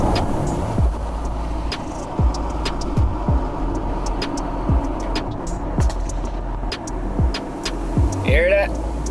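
BMW X3 M40i with a catless downpipe and tune, its exhaust giving a steady low drone while driving, with sharp pops and crackles recurring about once a second and a brief higher whine near the end.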